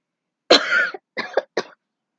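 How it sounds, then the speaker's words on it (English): Close, dry coughing: one longer rasping cough followed by two shorter coughs, with silence around them. "She coughed"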